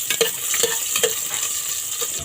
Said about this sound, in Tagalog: Kapag mainit na yung mantika, ihalo ko na yung bawang. At ihalo ko na rin yung luya.